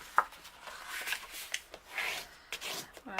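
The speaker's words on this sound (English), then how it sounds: "I'm just going to score and burnish all of the lines." Paper being scored and burnished along fold lines on an envelope punch board for an envelope box: a series of soft, close rubbing and scraping strokes with small taps, fairly quiet and alone.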